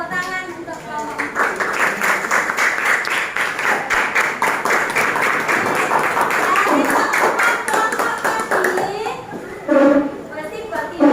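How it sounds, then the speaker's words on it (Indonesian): Children in a classroom clap for a group, with steady applause lasting several seconds among children's voices and a teacher speaking. "tepuk tangan untuk kelompok"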